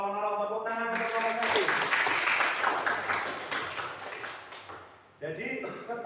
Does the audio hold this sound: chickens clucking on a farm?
no